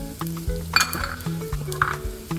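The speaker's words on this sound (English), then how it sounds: "Stir it to mix." A spoon scrapes and clinks steadily against a pan as rice with turmeric, white pepper and all-purpose seasoning, plus bacon and mushroom, is stirred, with a low sizzle of frying beneath the rhythmic scraping strokes.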